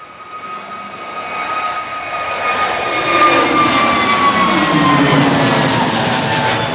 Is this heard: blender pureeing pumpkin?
no